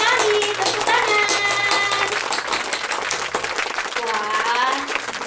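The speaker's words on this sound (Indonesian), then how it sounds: "Tepuk tangan." Applause fills a primary-school classroom lesson: steady hand clapping with children's cheering voices over it, loud and continuous throughout.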